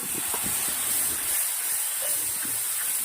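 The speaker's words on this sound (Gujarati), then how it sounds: "હવે આપણે એક ચમચી એટલું પાણી નાખવાનું છે" Water added to masala frying in hot oil, giving a steady, loud hiss and sizzle that holds throughout with small crackles and no talk.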